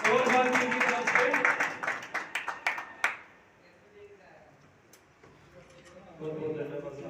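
Applause at a Holi celebration gathering of a sanitation workers' trade union in Mehrauli: a burst of close, loud hand clapping that breaks into a few scattered claps and stops after about three seconds, leaving quiet murmuring and talk.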